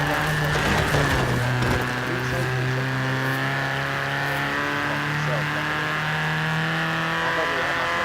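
A Honda Civic CRX Mugen in Forza Horizon 4 revs with a steady, sustained engine drone that holds an even pitch throughout. Its harmonic tone sits close and loud, with speech-like sounds blended in near the start.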